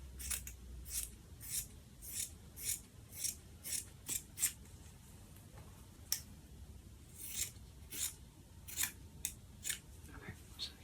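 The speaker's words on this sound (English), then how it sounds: "Now I'm just going to cut these out individually." Scissors cut out fabric pieces, giving soft, close, crisp snips in a steady rhythm, roughly one every half second, with brief pauses between runs of cuts in a quiet room.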